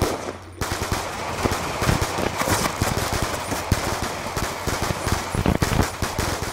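Rapid automatic gunfire in Black Ops 2 during a custom lobby in a tunnel, a loud, dense stream of shots rattling on for several seconds after a brief pause at the start.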